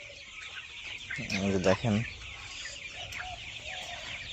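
Chickens cluck a few times at close range on a poultry farm hit by Ranikhet disease, where sick birds are being set apart, with someone speaking over the birds and steady farm noise underneath.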